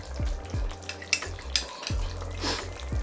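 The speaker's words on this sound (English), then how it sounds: "Here is turmeric and paprika. Just mix." Turmeric and paprika are stirred into jollof rice cooking in a pot, giving a steady sizzle with scraping spoon strokes and clinks against the pan, close and fairly loud.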